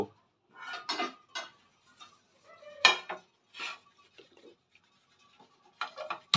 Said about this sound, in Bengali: একটা আমি গ্যাসে একটা প্যান বসিয়ে দেব